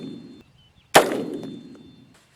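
A single sharp rifle shot from a Bear Creek Arsenal upper being sighted in, a close, abrupt crack followed by a short decaying ring, set in otherwise quiet surroundings with faint low background noise.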